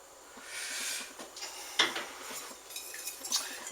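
Shallots are stirred into steak tartare in a bowl, soft scraping and wet mixing with a couple of sharper clinks of utensil against the bowl.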